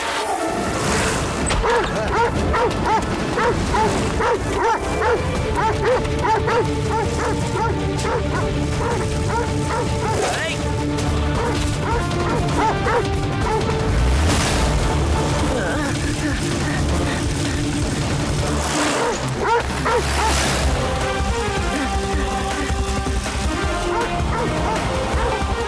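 Dogs in a cartoon bark and yip in repeated bursts over background music and sound effects, with occasional whimpers and voices speaking at times.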